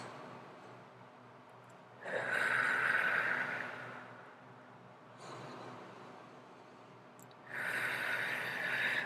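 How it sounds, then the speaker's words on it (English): Slow, deep breaths during a relaxed energy-healing routine: two long, soft inhale-exhale swells of breath, close and alone, separated by quiet pauses. "let's just take a couple of deep breaths here"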